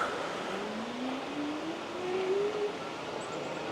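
A Gotrax Tundra electric bike pulling away on throttle with a soft start, a faint rising motor whine climbing gently in pitch over wind and road noise, no voices.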